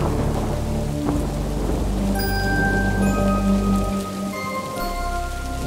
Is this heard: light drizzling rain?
yes